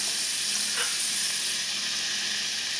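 Diced garlic sizzles in a pan over low heat, a steady close hiss with one brief louder crackle and no voices.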